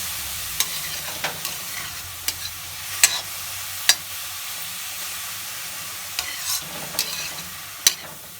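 Spoon stirring yogurt raita with grated beetroot and carrot in a bowl, a steady soft wet churn with several sharp clinks of the spoon against the bowl spread across it.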